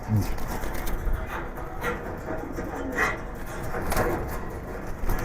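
Pigeons cooing and fluttering in a loft at a pigeon-keeping site in Keraniganj, with soft, scattered calls over a steady, busy background din.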